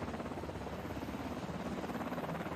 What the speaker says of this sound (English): Is it the helicopter?